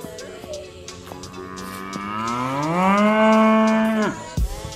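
A cow in a snowy farmyard lets out one long, loud, drawn-out moo that rises and holds before cutting off, heard up close with no talking.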